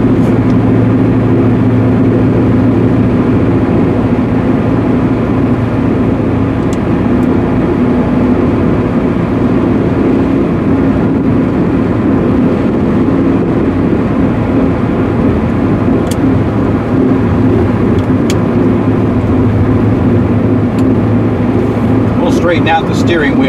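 A Porsche 944 with a swapped-in V8 engine drives steadily, its low, continuous engine drone and road noise filling the cabin loudly throughout.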